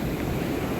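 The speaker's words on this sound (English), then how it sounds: "Motion of the ocean." Ocean waves wash onto a beach as a steady, broadband roar, close and continuous, with some wind buffeting the microphone.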